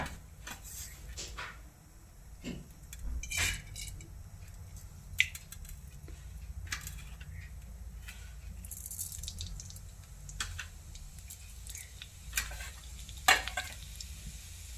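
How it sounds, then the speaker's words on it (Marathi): Cumin and mustard seeds crackling in hot oil in a wok, with scattered sharp pops and crackles over a low steady sizzle. "हा जिरी मोहरी आता तडतडलेली आहे"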